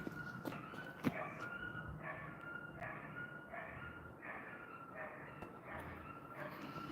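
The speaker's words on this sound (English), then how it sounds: "Neighborhood dog doesn't sound very happy" An unhappy neighborhood dog barks and whimpers at a distance, giving faint repeated yelps and whines over a steady outdoor background hum.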